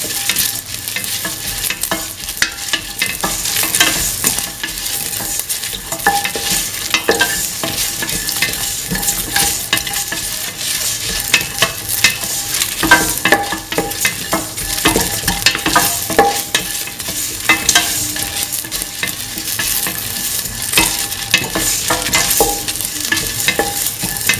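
Ginger mixture stirred and fried in a pan for a lentil, snake gourd and coconut milk stew, with steady sizzling and repeated scraping strokes throughout, fairly loud and close, no talking.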